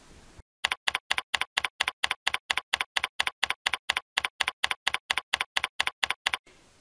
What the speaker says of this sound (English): Now that seems like a lot of typing to do